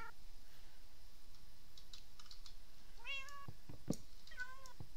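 A cat meows twice indoors, two short rising calls near the end, with faint clicking and a quiet room tone between them.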